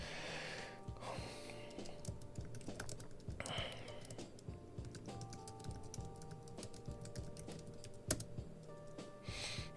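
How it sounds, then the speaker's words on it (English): Computer keyboard typing in a home office: rapid, uneven clicks and clacks of keys close up, with brief pauses between bursts and one sharper keystroke near the end. "Keyboard's back."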